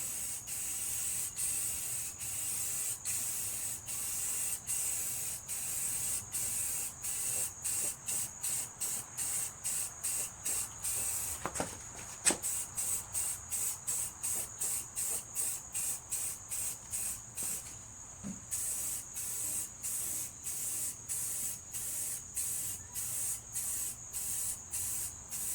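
Spray paint is applied over an existing coat on a Yard-Man MTD 4WS four-wheel-steering lawn tractor part in a long series of short, close, evenly spaced hissing bursts, each cut off sharply, with a couple of brief gaps.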